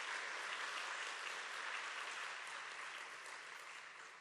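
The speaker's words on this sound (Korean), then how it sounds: "감사의 박수 올려드리겠습니다" A congregation applauds at a Thanksgiving Sunday church service at a school campus, a dense sustained wash of clapping from many hands that gradually softens toward the end.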